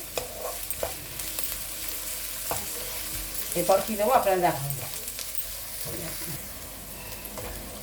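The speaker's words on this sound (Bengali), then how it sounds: "আদা রসুন কাঁচা লঙ্কা এগুলো খুব ভালো করে ভেজে নিয়ে" Ginger, garlic and green chillies sizzle and fry in a pan with stirring scrapes, while a person speaks briefly over the cooking noise.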